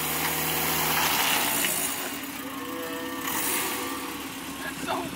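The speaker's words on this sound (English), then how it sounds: "He's going to do a burnout." A BMW E36 car engine revs hard during an attempted burnout, rising and falling in pitch close by, with voices talking over it.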